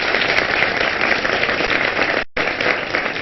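Dense studio audience applause fills the space as a continuous wash of clapping, cutting out abruptly for an instant before resuming, with no talk over it.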